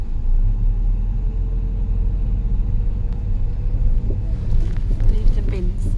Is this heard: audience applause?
no